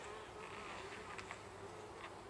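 Honey bees buzz around a Flow Hive Hybrid being fed sugar syrup, a faint, continuous, close droning hum with no talking.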